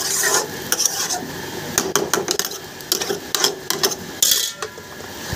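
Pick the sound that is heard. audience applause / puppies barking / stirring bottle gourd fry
stirring bottle gourd fry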